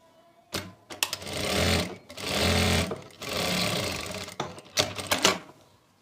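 A sewing machine stitches darts on a woman's suit in rapid runs of a few seconds each, with short pauses between them and a quicker, broken flurry of stitches at the end, heard close up and alone.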